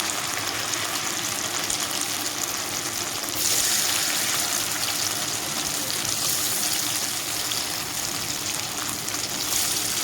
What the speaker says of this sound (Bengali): তো এইভাবে ফ্রাই করে নেব প্রথমে